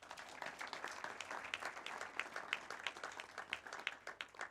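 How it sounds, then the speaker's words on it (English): Graduates clapping at an outdoor graduation ceremony at a sports club, a steady patter of many separate claps heard at a moderate distance, fairly faint and continuous, with no talking. "I think you need to clap for yourselves."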